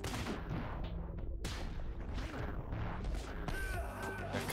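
Gunfire in the video game Katana ZERO, several sharp bursting shots and impacts scattered across a few seconds amid game effects.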